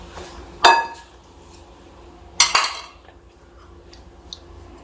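Onions and potatoes being stirred in a bowl for kadhi pakora, giving two sharp clinks of utensil against the dish, one near the start and a double knock mid-clip, with quiet pauses between.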